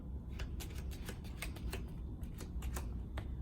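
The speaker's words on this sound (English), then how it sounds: "now I'm going to deal my 7 cards per spot" A steady run of quick, soft card flicks and snaps as a Pai Gow dealer deals seven-card hands, one after another at an even pace, over a low background hum.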